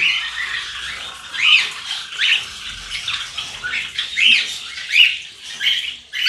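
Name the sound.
cockatiel birds squawking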